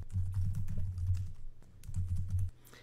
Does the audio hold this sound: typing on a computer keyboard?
yes